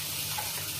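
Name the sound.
water being poured into a bowl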